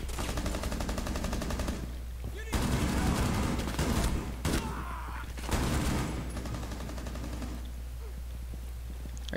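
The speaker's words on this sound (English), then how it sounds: "Oh, I'm being shot at." Sustained bursts of gunfire in the video game Rainbow Six Siege, loud and dense in several rapid volleys separated by short pauses, with brief talk mixed in.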